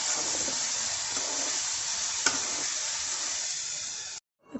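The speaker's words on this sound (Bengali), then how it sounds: "এখন দিয়ে দিব ভেন্ডি। নেড়ে চেড়ে ভালো করে।" Okra (bhindi) frying in a pan gives a continuous close sizzle with brief stirring scrapes and one light clack midway, before the sound cuts off abruptly just before the end.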